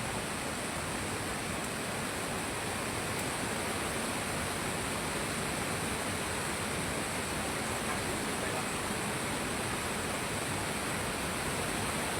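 Steady rushing water like a small waterfall pours continuously, loud and close, at the source of a rural village water supply that is visited for repairs.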